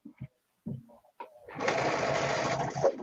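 After a few short bumps and clicks, a sewing machine starts and runs in a steady, fast mechanical whir, close by, while stitching a quilt.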